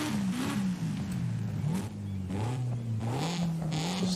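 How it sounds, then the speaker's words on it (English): A car engine in Forza Horizon 5, fitted with a Turbo VVT upgrade, revs up and down in smooth rising and falling sweeps, loud and continuous with no voices. "you can hover over it and hear the different engines."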